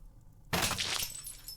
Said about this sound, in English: Momus throws a bowl of stew across the room, shatters and splatters against the wall in a violent crash